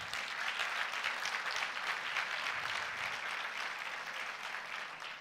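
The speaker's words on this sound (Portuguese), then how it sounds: "Dá um aplauso ao Senhor Jesus." A church congregation applauds in a dense, steady wash of clapping that holds evenly throughout, moderately distant and without talk.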